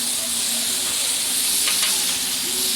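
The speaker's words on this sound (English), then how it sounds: "I want these onions and tomatoes to cook up" Onions and tomatoes for paella sizzle on a Blackstone griddle over medium heat, a loud, continuous frying hiss close up with faint stirring scrapes mixed in.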